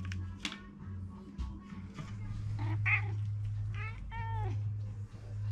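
A cat meows several times, with clear rising and falling cries over a steady low hum, in a garage where a BMW Z3 M with the S50B engine is being worked on.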